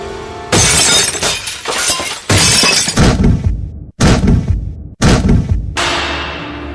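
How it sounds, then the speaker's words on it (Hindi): Car windows shattering in a story sound effect: several loud, close bursts of breaking glass come in quick succession, each with crashing debris and a brief dip to near silence between them, followed by a lingering rattle. "कांच टूटे हुए थे"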